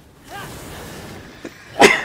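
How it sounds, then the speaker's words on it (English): A single sharp sneeze bursts out near the end after a quieter breathy lead-in, up close during a Darksiders 3 gameplay session. "Sneezing."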